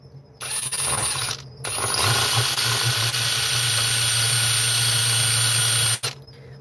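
On an OPAL machine being repaired, a screwdriver bit in a power driver countersinks a hole, giving a loud, steady whirring whine that starts, briefly stops, then runs continuously for several seconds before cutting off.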